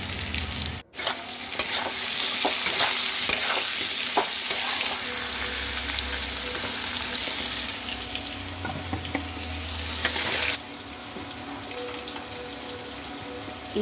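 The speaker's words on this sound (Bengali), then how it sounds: "এখন আলু আর এঁচোড়টা একটু ভালো করে ভেজে নেব" Potato and young jackfruit frying in oil in a kadai, a steady close sizzle with stirring scrapes and small pops running throughout, dropping slightly quieter near the end.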